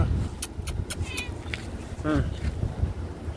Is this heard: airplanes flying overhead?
no